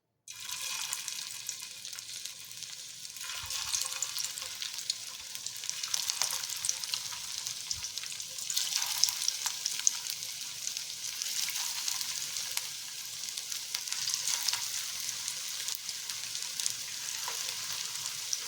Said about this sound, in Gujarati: તો તેલ આપણું અહીંયા ગરમ થઈ ગયું છે તો હવે આપણે અહીંયા વડાને સેલો ફ્રાય કરી લઈશું